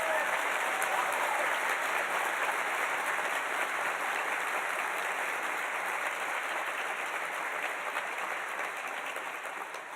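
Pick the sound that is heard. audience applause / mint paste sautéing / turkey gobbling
audience applause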